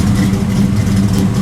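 A 1973 Z28 Camaro's engine revs with a choppy, lumpy note, loud and steady throughout with a deep rumble and no voices.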